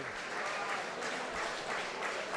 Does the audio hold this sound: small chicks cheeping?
no